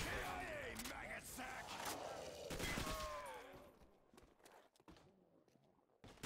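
Gunfire in Call of Duty: World at War Nazi Zombies co-op, rapid bursts of shots cracking over game noise during the first few seconds, then thinning to scattered faint pops; muffled voices and game sounds underneath.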